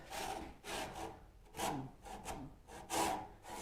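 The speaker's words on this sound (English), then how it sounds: "we are getting way better at cutting tenons." A hand saw cuts tenons in wood, making rhythmic back-and-forth rasping strokes, about six close and fairly quiet, with no voices.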